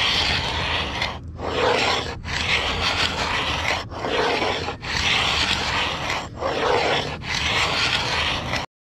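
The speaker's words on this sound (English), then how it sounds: "I'm simply using the carbide scraper, and it's just a matter of scraping." A carbide scraper rasps old caulking from the seams of a wooden boat in loud, steady strokes, each pull a couple of seconds long and set apart by brief pauses, with no voices.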